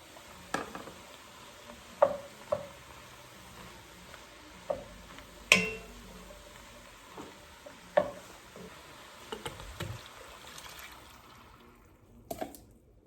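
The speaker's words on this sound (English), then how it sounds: "Now we're gonna just stir the garlic around and let that get fragrant." Garlic stirred in a soup pot for turkey soup: a faint steady sizzle under scattered spoon scrapes and clinks against the pot, with occasional louder taps, no talking.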